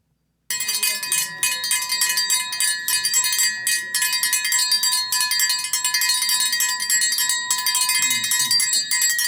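A bell rings continuously and insistently, a bright, sustained metallic tone repeated in rapid strokes that starts after a brief silence and keeps going, loud and close, for the whole stretch.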